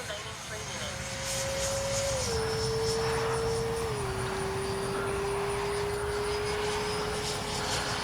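An 80mm HSDJETS J-10 electric ducted-fan RC jet flying overhead, its steady loud whine holding throughout and dipping slightly in pitch as it passes.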